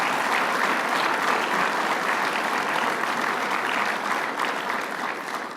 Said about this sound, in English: And Gary Douglas and Tim Collins deserve a round of applause and our appreciation.